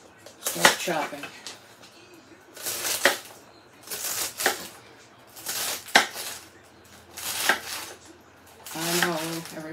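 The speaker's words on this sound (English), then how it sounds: "I know everybody says you shouldn't chop lettuce, you should tear it, but romaine, I think, is designed to chop." A kitchen knife chops romaine lettuce on a cutting board in a series of distinct crunchy chops in bursts, with brief talk between them.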